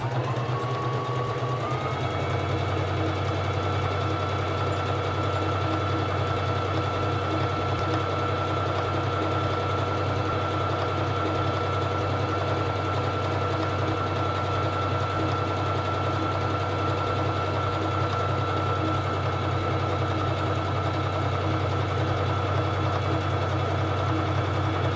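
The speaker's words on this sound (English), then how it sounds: "Now I'm going to sew the honeycomb stitch. Bring down the presser foot lifter and begin sewing." A SINGER Fashion Mate 3333 sewing machine stitches a honeycomb pattern. It starts up and then runs at a steady, close mechanical hum with rapid rhythmic needle chatter throughout, and no voices are heard.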